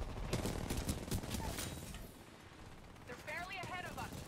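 Rapid gunfire bursts in Titanfall 2, loud and dense at first, then easing off as a warbling electronic weapon tone rises near the end, with game noise throughout.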